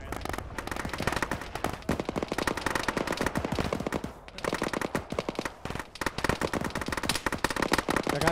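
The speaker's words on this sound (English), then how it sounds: "two-story to the northwest has a machine gun in it" A machine gun fires from a two-story building in the military game Arma during a ShackTac session, rapid close bursts that run almost without pause, briefly dropping off twice before resuming.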